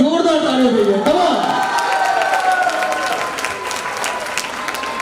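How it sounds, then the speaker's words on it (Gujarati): A wedding crowd gathered for a son's marriage breaks into loud, sustained clapping and cheering for a dancing father, the applause close and dense while a voice talks over it. "સૌપ્રથમ તો રાજેન્દ્રભાઈ માટે જોરદાર તાળીઓ જોઈએ."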